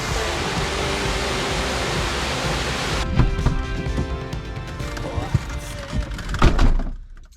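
Waterfall on the NC500 road trip in Scotland, a loud steady broadband rush that dominates the first three seconds, then drops away abruptly to quieter ambience with a few thumps and faint voices nearby.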